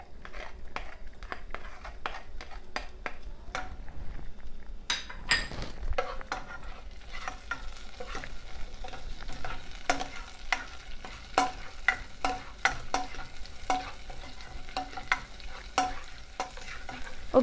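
Ginger garlic paste fries in a pan for a soup while a spoon stirs it, producing a soft continuous sizzle punctuated by frequent sharp clicks and scrapes of metal against the pan.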